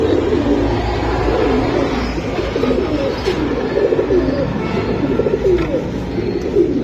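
Several Giribaz pigeons, kept for sale, coo in low, soft, continuous rolling calls, close by and fairly loud, with a steady background hum and no speech.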